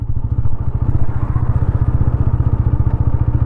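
A TVS Apache RTR 160 4V motorcycle engine thumps steadily in second gear at low speed with no throttle, giving a close, loud, even chugging pulse throughout.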